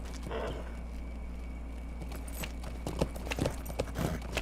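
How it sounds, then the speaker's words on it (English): Horse hooves clip-clop on stone in the fantasy MMO Lord of the Rings Online, a steady walking rhythm of hollow knocks over a constant low hum and game ambience. "You can kind of hear my horse is on stone now."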